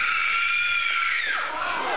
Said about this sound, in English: A big, scary scream there.